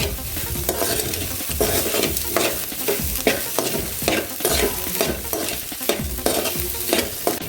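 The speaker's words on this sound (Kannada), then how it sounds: "ಇದು ಫುಲ್ ಸ್ವಲ್ಪ ಕ್ರಿಸ್ಪಿ ಆಗಿರಬೇಕಲ್ವಾ ಅದಕ್ಕಾಗಿ ಸ್ವಲ್ಪ ಹೊತ್ತು ಇನ್ನು ಫ್ರೈ ಆಗಬೇಕು" Bitter gourd fries in a pan for a Mangalore Brahmin-style masala gojju, a steady close sizzle broken by repeated scraping stirs of a spoon across the pan, with no voices.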